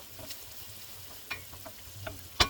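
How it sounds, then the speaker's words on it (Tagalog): Stir fry beef sizzling in a pan, a soft continuous fry hiss under occasional utensil scrapes and taps, ending in a couple of louder clattering stirs close by. "We are cooking some stir fry beef."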